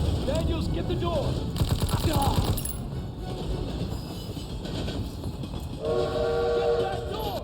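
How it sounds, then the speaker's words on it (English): A train in Call of Duty WWII during a French Resistance mission in Paris rumbles and clatters along, with loud horn or whistle blasts near the start and again toward the end, and sharp cracks mixed into the din. "We need to stop that train!"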